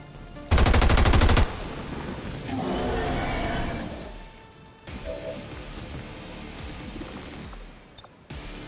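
A short, loud burst of automatic gunfire from the XCOM 2 video game, lasting about a second, is followed by a rumbling roar and the hum and clatter of game effects.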